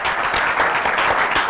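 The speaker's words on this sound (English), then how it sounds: "they're clapping for you" Studio audience applause on a television talk show, a dense continuous wash of clapping held at steady loudness throughout, with no voices over it.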